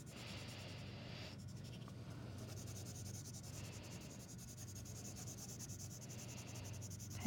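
A pencil or highlighter shades across paper, making faint, steady scratchy rubbing that continues without a break, heard close with no one talking.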